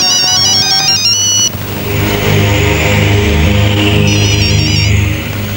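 A telephone rings with a loud electronic warble that repeats in bursts, close up, over a steady low hum in the background.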